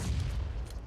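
A grenade bursts in PUBG Mobile during a pro league match, a loud, dense, rumbling blast filling the whole second.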